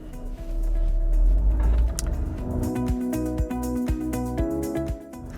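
Engine of a Volvo XC40 T4 plug-in hybrid SUV driven in Power sport mode, a rumbling surge followed by several rhythmic revving pulses as it accelerates, heard fairly close.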